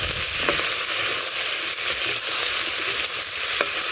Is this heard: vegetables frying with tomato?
yes